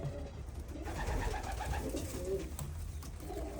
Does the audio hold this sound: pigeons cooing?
yes